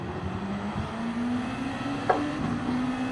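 Honda NSX race car engine in Gran Turismo 7, a steady mid-pitched drone that climbs gradually in pitch as the car accelerates, with a brief sharp blip near the middle and no voices.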